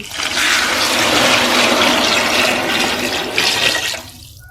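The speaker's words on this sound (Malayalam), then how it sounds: "ഇനി ഇതിലേക്ക് നമുക്ക് ഇതിനാവശ്യമായ വെള്ളം ചേർത്ത് കൊടുക്കാം." A loud, steady rush of water pouring into a pot of rice for several seconds, close by, then quickly tapering off into quiet.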